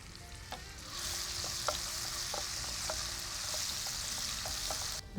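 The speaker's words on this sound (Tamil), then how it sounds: "இந்த பூண்டு அரை பதம் தான் நான் வதக்கியிருக்கேன்" Garlic sautés in hot oil in a pan, a steady close sizzle and hiss with occasional light clicks from stirring, continuous for several seconds without any talking.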